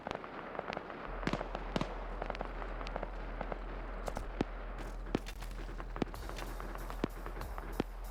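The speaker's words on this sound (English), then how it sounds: "I just heard a bullet impact and hit somebody." Scattered gunshots and bullet impacts ring out in a military video game firefight with a BRDM armored vehicle, sharp distant cracks at irregular intervals over a low steady rumble, fairly faint and without speech.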